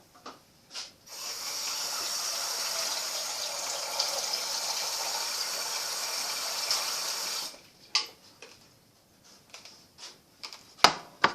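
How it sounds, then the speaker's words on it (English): Tap water gushes into a large pan for several seconds, a steady close rushing hiss, followed by a few clanks and knocks after the flow stops. "So I'm going to fill this up with some water."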